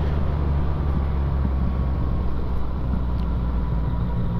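A Yamaha XSR 900 motorcycle engine hums steadily while riding at around 2,500 to 3,000 RPM through a quiet village, a constant low drone with wind rush and no voices.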